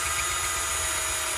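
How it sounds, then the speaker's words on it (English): An electric drill runs continuously with a high steady whine and buzzing hum, loud and close, while taking apart a fan-assisted mosquito killer. "So I shall pop that into the drill."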